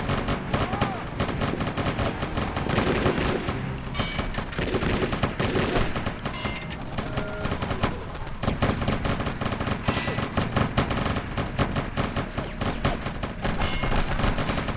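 Sustained gunfire in the shooter Shadow Harvest: Phantom Ops, dense repeated shots and bursts running throughout, loud and continuous, with occasional talk underneath.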